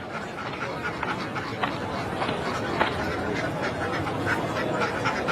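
Cartoon ducks quacking in a dense, busy mix, with overlapping calls running steadily under character chatter.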